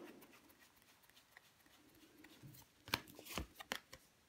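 Tarot cards being laid down on a table, quiet soft rustles followed by a few crisp, sharp slaps and flicks of cards near the end, close and faint with no voices.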